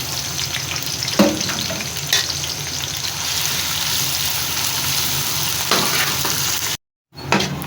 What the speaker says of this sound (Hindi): दो दरमियाने साइज़ के प्याज थे, वो बारीक काट कर इनको कर लेना हमने फ्राई